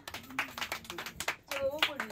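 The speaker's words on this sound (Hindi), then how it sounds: "ताली बजाते रहना चाहिए।" Rapid rounds of hand clapping during a balloon game played in the street, sharp claps bursting in quick clusters while children and an adult talk over them.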